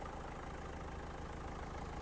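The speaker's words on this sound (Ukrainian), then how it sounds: "Двигун працює чітко" A Dacia Sandero engine idles steadily with a low, even rumble, close by and uninterrupted.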